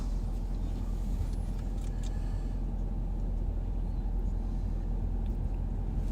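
A single car on an empty rural road at night approaches from far off, its steady low engine and tire rumble holding level throughout with no voices over it.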